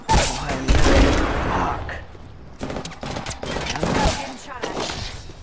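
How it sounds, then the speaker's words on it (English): Gunfire in the video game Apex Legends: dense rapid bursts of automatic shots, loud and close, broken by a short lull and then more firing, with a player briefly swearing. "I am taking fire, friends."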